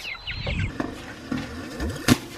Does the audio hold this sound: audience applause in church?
no